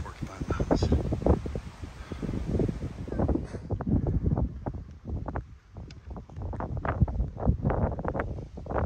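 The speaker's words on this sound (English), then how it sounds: "it's too windy to talk to you up there" Gusty wind rumbles across the microphone in repeated bursts in the Porcupine Mountains, loud and close, with no clear talking in between.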